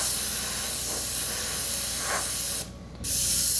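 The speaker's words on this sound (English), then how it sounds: "You just put the sheet over your artwork and spray through it." A steady airbrush hiss sprays paint continuously through a sheet laid over artwork, briefly cuts out for a moment, then resumes at full strength.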